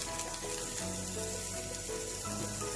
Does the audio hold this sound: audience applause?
no